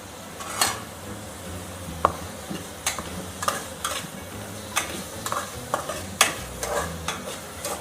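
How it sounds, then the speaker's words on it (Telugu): Curry leaves frying in a pan for a tamarind curry, a soft sizzle under repeated sharp stirring scrapes and clinks of a spoon against the pan at an irregular rhythm. "ఓరేమో కరివేపాకు వేసుకుందాం అండి."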